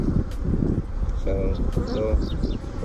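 A dense, steady buzzing of many honey bees at a hive fills the clip, close and continuous, with rustling and a few sharp clicks mixed in.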